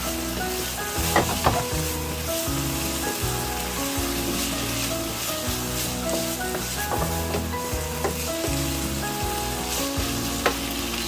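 Picadillo with fresh cilantro sizzles steadily in a hot pan, with repeated scraping and clinking stirs cutting through the continuous frying hiss, close and fairly loud with no talking.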